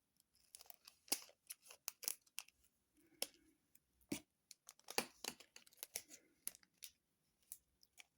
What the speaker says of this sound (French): Les ciseaux, ils sont là.